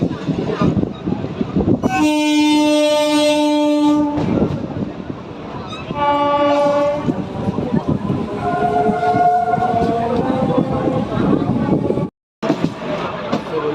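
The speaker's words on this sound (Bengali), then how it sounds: "ছেড়ে ট্রেনটা হাওড়ার দিকে যাচ্ছে" Loud local train running on the tracks toward Howrah near Liluah, with a steady rumble, two long blasts of a horn, and voices talking over the noise before a brief cutout.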